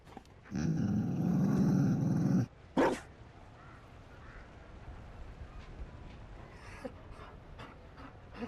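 A Mabari war dog in the video game Dragon Age: Inquisition gives a loud, close, rumbling growl lasting about two seconds, then a short sharp bark, followed by quiet panting and faint movement.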